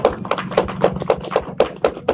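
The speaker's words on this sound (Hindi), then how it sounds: "उसके लिए इस रानी मुर्मू जी के लिए एक जोरदार ताली होना चाहिए।" An audience claps for Rani Murmu, a speaker at an academy session. The clapping is steady and rhythmic, with evenly spaced claps at a quick beat that sound fairly close and clear, and no one talks.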